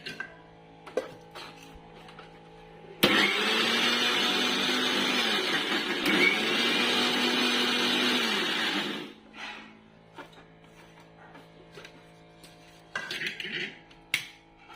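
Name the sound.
mixer grinder crushing biscuits into powder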